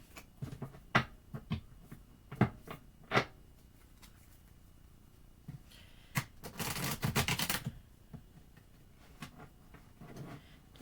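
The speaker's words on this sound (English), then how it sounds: "and getting a good shuffle going." Smith & Waite tarot cards are shuffled by hand, quiet scattered taps and soft slaps of the deck, then a dense riffling burst midway, close and mostly alone in a quiet room.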